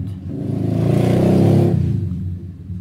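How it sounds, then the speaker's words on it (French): A dirt bike engine revs up to a loud, rising whine for about a second, then eases back down to a lower drone. "si vous entendez la moto, c'est mon fils qui est toujours sur son dirt"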